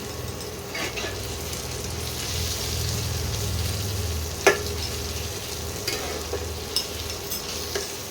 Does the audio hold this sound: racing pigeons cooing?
no